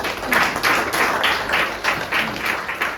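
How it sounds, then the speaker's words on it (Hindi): An audience claps in a hall, a steady run of several rhythmic bursts of applause filling the room at moderate loudness with no talking. "इन सब के लिए एक बार ताली दो।"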